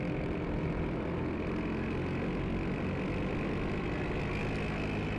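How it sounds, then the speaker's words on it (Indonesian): A steady, loud scooter engine drone with a rough, noisy exhaust rumble runs continuously throughout, with no talking. "ini knalpotnya bising ya"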